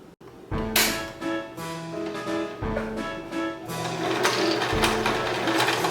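Sewing machine stitching a fabric wall hanging and running badly: uneven bursts of rapid mechanical clatter with stops and restarts, close and fairly quiet, and no voice present.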